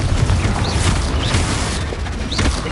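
A Confringo blasting spell explodes in Hogwarts Legacy, a loud, sustained booming burst with crackling debris and magical whooshes layered throughout.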